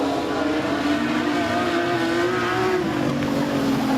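Production sedans race at Maryborough Speedway, with a loud continuous engine roar that rises and shifts in pitch as the pack powers through the turns, steady and close throughout with no talk.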